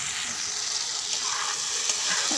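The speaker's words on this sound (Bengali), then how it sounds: "লবণ হলুদ সাথে ভালো করে মিশিয়ে নিব।" Mango pieces with salt and turmeric frying in oil, a loud continuous sizzle close up with soft stirring scrapes underneath.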